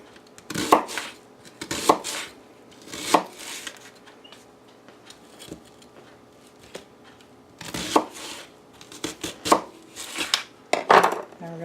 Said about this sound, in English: And then I have a nice vidalia onion here. We're just going to slice that pretty thin also.